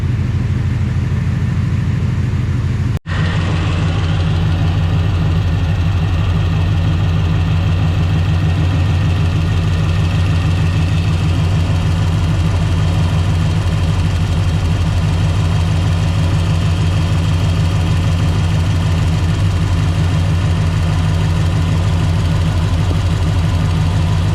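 A car engine idles steadily as it warms up, a loud, even low rumble that holds without change, with a brief click near the start.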